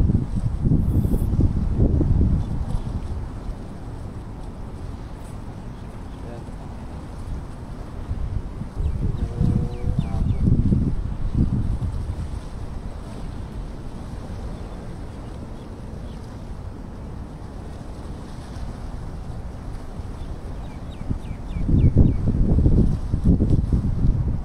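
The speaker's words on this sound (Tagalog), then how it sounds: "malakas yung hangin, hindi ko mahagi." Strong wind buffets the microphone during tenkara fishing, coming in heavy low rumbling gusts that swell and fade, loudest near the start, around ten seconds and again at the end, with no talk.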